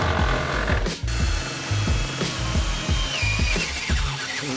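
A power tool cuts a hole for a head unit in the interior of a 1973 VW bus, making steady loud grinding and rattling with sharp repeated knocks and one brief break.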